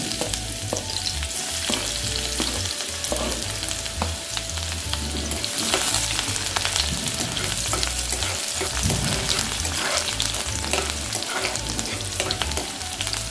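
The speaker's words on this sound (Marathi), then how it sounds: "आता आपलं तेल गरम झाले, आपण गॅस मीडियम करूया आणि कांदा टाकूया" Onion slices frying in hot oil over medium heat for paneer chilli, stirred steadily; a loud, continuous close sizzle with scraping and knocks from the spoon against the pan throughout, no voices.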